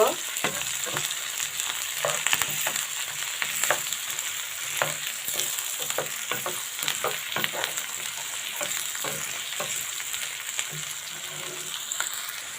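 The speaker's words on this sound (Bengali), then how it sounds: "কাঁচামরিচ, পেঁয়াজ কুচি, রসুন কুচি, এগুলো দিয়ে দিব। হালকা করে এগুলো বাদামি কালার করে ভেজে নিব।" Chopped green chili, onion and garlic fry in hot oil in a pan until light brown, a continuous close sizzle with frequent crackles and spoon scrapes, no talking.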